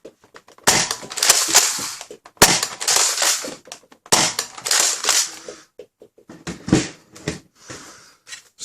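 A Nerf Rival Finisher blaster with an upgraded spring fires rounds in three loud, sharp bursts of snapping pops, each followed by mechanical clatter, with a quieter handling rattle near the end.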